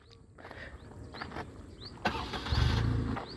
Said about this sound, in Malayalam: പിന്നെ ഒരു വാഹനത്തിന് എഞ്ചിൻ നോട്ട് ഞാൻ കേൾപ്പിച്ച് തരാം.